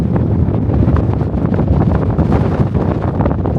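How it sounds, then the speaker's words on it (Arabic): Strong wind beside the Main River in Frankfurt, buffeting the microphone with loud, continuous, gusty rumble and no voices. "راه البلاصه عاليه، راه كيصوت هنا واحد الريح ما نقولكمش."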